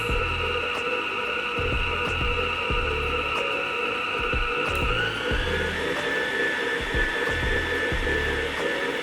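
Electric hand mixer whirring steadily through peach cobbler cheesecake batter, a constant loud motor drone with rhythmic thumps of the beaters against the bowl and a slight pitch shift midway.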